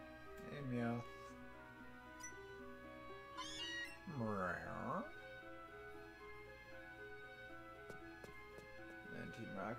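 Meowth from the video game Pokémon: Let's Go Pikachu gives a few short, bright cartoonish meow calls over quiet game music, each brief and separated by pauses.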